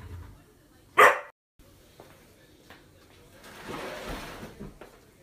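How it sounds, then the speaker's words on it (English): A single sharp dog bark rings out, followed by quieter shuffling and rustling. "Quit barking."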